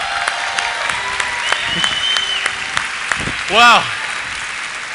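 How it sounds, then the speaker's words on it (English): Audience applause welcoming Steve Hatchett on stage: a steady wash of clapping from a crowd, with a loud voice exclaiming briefly near the end. "let's welcome Steve to the family with a great big round of applause"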